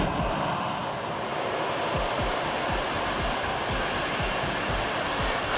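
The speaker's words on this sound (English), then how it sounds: "its engines roaring with raw power" Steady, dense roar from the engines of a vertical-lift aircraft, with broadband rush, holding loud and constant throughout with a faint rhythmic pulsing underneath.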